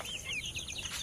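Young chicks about a month and a half old peep and cluck in quick, overlapping high chirps, close by and moderately loud, for about a second.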